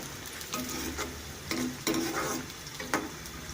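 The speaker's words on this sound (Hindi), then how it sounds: "पहले इस प्याज को थोड़ा सा फ्राई कर लेंगे। इसमें डालेंगे गोल मिर्चें हमारी ये फ्राई हो जाएँ थोड़ी सी" Onion and black peppercorns fry in a pan for brinjal bhurta, giving a steady close sizzle broken by several scraping stirs of a spoon against the pan.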